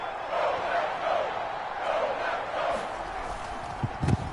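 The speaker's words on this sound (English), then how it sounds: "The crowd getting into it as we come up on a big 3rd down." A football stadium crowd roars as a big third down approaches in a Packers versus Football Team game, a broad, sustained wash of distant cheering with swelling rises and a few sharp bursts near the end.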